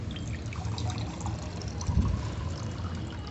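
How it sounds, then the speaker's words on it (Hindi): Water pours into a cup for drinking at home, a close, steady trickle and splash that swells briefly midway, with no one speaking. "पहले मैं पानी पी लेता हूँ, प्यास लग रही है बहुत तेज।"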